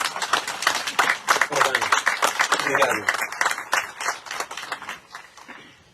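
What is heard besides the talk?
applause in a chapel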